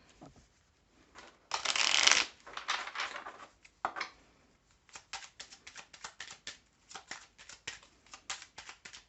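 Belline oracle cards are shuffled by hand, with one loud riffling burst followed by a run of quick, crisp card slaps and flicks, close and clear with no voice.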